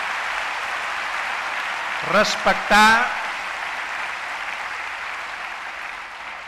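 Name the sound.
audience applause at a political conference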